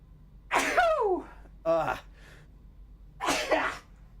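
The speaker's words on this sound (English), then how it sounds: "Started to sneeze loudly." A person sneezes loudly up close: three sharp, explosive bursts spaced over about four seconds, with quiet in between.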